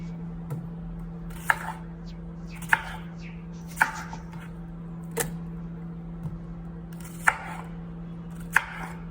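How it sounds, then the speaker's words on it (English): A knife chops onions on a board in quiet, evenly spaced taps, about seven in all, over a low steady hum. "Cut the onions as shown and put it in a blender."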